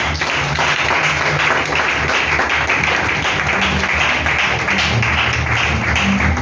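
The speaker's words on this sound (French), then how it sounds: "Acclamons la parole du Seigneur" A church congregation bursts into steady, dense applause, many hands clapping continuously and loudly throughout, filling the room at close range.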